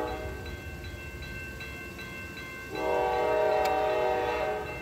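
A train rolls past on a rail line in Allen Park, Michigan, with steady rumble and faint periodic clicks. The noise swells into a louder, brighter grinding whine partway through, and a brief tick is heard near the end.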